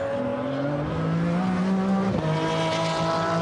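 An Aston Martin DBRS9 GT race car accelerates hard out of the first chicane at Monza, its loud engine note climbing steadily through the gears, with a brief shift dip midway.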